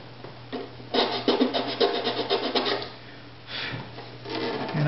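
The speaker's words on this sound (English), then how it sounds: "Maybe we'll use a file to get in here." A file rasps against a wooden violin bridge in rhythmic back-and-forth strokes, a close scratchy series with a short pause before a final stretch of filing.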